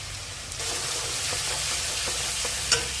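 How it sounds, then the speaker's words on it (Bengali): Onion-garlic paste with salt, turmeric and chilli powder fries in a pan for a taro curry, giving a continuous close sizzle with faint periodic scrapes of stirring. "মশলাটা কষে নেব।"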